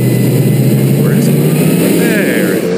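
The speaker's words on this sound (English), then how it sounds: "listen to the motor, or lack thereof" A dirt modified race car at Utica Rome Speedway, heard in-car on a slick track, holds a loud, steady engine drone with a little rise in pitch, under a commentator's voice.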